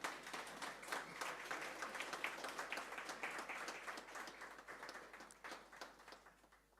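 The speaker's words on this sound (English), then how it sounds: "Round of applause, please." An audience applauds steadily throughout, a dense, continuous patter of many hands clapping, heard fairly faint and distant and slowly tapering off toward the end.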